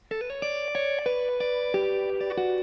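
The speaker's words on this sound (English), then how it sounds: "So let's add a tad of shimmer reverb to this" Sustained, shimmering electric guitar chords through a shimmer reverb effect swell and overlap, each one trailing into a bright, lingering wash of reverb with high octave-like sparkle, played alone.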